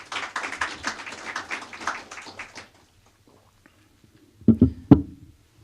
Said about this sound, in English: And if we can give the sheriff a round of applause,